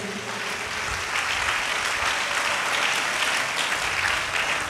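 A church congregation clapping together, a loud, sustained wash of applause that swells after the first second and holds steady.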